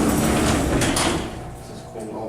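The door of a 1969-1970 Montgomery G&P hydraulic freight elevator at a Sears store in Southern Park Mall slides shut with a loud, rumbling rush that fades out. Voices can be heard alongside it.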